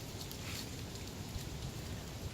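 Light rain patters steadily onto a surface, a soft continuous hiss with faint scattered drops and no voices.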